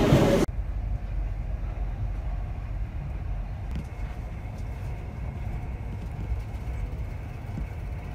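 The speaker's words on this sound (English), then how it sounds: "And there's my train." A train pulls in with a steady, fairly near low rumble and faint rail clatter that holds throughout after a brief louder burst at the start, with no voices.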